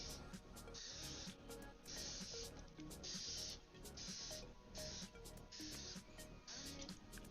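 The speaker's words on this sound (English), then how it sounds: "Okay, I'm gonna spritz this again." A spray bottle spritzed over and over, with short hissing bursts repeating in a fairly regular rhythm against a quiet background.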